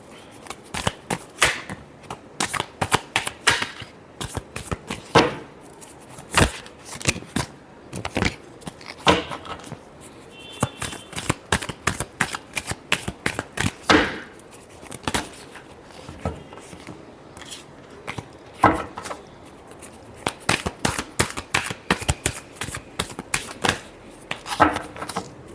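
Tarot cards are shuffled by hand in rapid, irregular bursts of crisp riffling and slapping, close and fairly quiet, continuing throughout with no voices.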